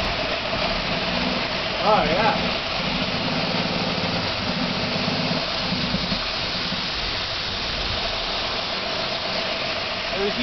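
A 1955 Ford Vanette P-350 engine idles with a steady, even rumble and hiss throughout, while a voice briefly calls out near the start.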